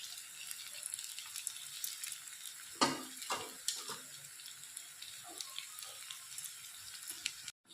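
Soaked kurdai, dried wheat fritters, go into a pan of chillies on low gas for chutney, giving a faint steady sizzle with sharp spattering crackles and clinks for a moment near three seconds, then quieter frying.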